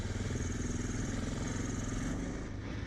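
A motorcycle on a road trip across New Zealand's South Island rumbles steadily and loudly at close range, a dense engine drone with rhythmic pulsing and no break.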